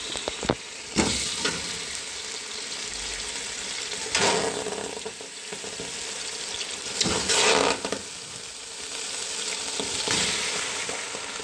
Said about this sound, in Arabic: السمنة كده بسيطة. ندي تشويحة للفراخ كده.